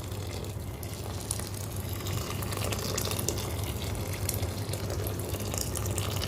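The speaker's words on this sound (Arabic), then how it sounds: "وانا دول كوبايتين رز بنزل عليهم ب4 كوبايات ميه" Four cups of water pour steadily into a pot of rice mixed with turmeric, curry, salt and oil, making a continuous close splashing gush with no voices.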